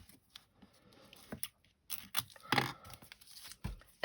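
Foam tape is torn off for a handmade card, with a few short ripping and peeling bursts, close and quiet, separated by brief pauses and small handling rustles.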